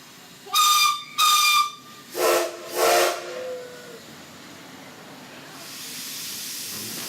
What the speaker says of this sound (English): there'll be 2 loud whistles, so please cover your ears